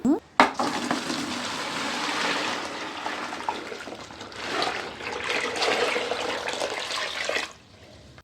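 Running water pours steadily into a container while drawn for a bath, a broad rushing splash that swells and then stops abruptly.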